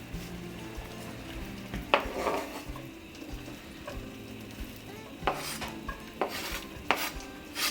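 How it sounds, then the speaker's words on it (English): Chopped onion softens in hot oil in a pan over low heat, a quiet low sizzle broken by several clattering scrapes and knocks of a utensil stirring against the pan, close and intermittent. "I'm going to add the onion and soften it up just a little bit"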